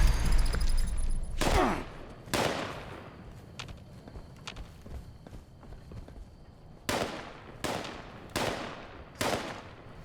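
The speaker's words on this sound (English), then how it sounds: "Where are you shooting at me from" Gunfire aimed at the player in the video game Fallout 76: a handful of sharp, loud broadband shots, spaced irregularly, two early and a quicker cluster of four near the end, over a steady low rumble of game ambience.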